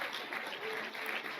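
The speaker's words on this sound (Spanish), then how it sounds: "Fuerte ese aplauso a nuestro Dios" A church congregation applauds steadily, a dense even wash of clapping at moderate volume throughout.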